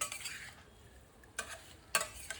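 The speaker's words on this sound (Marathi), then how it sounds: "आता हे छान आपल्याला मिक्स करून घ्यायचं आहे" Spoon stirring a pickle mixture with jaggery powder in a pot, soft scraping with two sharp metallic clinks against the vessel, quiet and close, with no voices.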